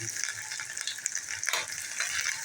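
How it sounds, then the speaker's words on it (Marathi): Cumin seeds, garlic and chilli hit hot oil over medium heat, a short close hissing sizzle with quick crackles and a brief surge midway, no talk. "आता आपण जिरं घालून घेऊया ही लसूण घालून घेऊया आणि ही मिरची घालून घेऊया"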